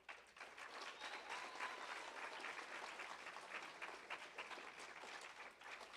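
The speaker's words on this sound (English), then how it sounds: "And I want you all to give applause to the great teachers that we are surrounded with here in our schools." An audience at a middle school awards ceremony applauds teachers with steady, dense clapping that stays even and moderately faint throughout, as though heard from across a large room.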